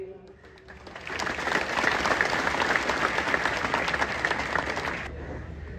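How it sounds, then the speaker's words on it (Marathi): Audience applause after a devotional Marathi song, a dense, steady wash of clapping swelling in after a brief lull and holding strong for several seconds before easing slightly at the end. "सर्वांनी जोरात टाळ्या वाजवायच्या।"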